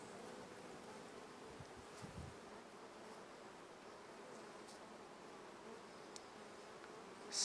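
Honeybees buzz faintly in a freshly opened queenless five-frame nuc hive, a soft steady hum with light rustling and a few small clicks, quiet and continuous with no talk.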